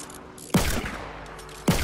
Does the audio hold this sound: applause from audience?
no